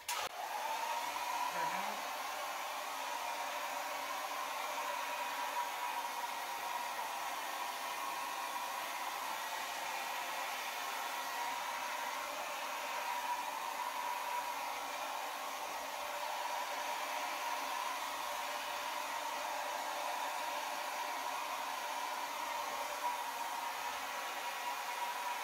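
A hair dryer blows over an acrylic pour painting in red violet and Venetian rose, giving a steady, even whoosh that runs unbroken from start to finish with no voices.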